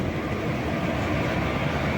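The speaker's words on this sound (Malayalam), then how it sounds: "ഏറനാട് എക്സ്പ്രസ് കേട്ടോ ക്രോസ് ചെയ്തുകൊണ്ട് പോവുകയാണ് നമ്മുടെ ഷൊർണൂർ ജംഗ്ഷനിൽ നിന്ന്" A deep, continuous roar and rumble of the Ernad Express passing close by at Shoranur Junction station, heavy and steady for the whole stretch, with no voices.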